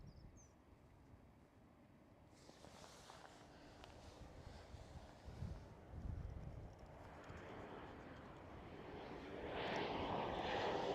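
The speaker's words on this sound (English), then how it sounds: "KLM City Hopper" KLM Cityhopper Embraer E190 jet, a faint distant engine roar building slowly and growing louder toward the end, with light wind noise.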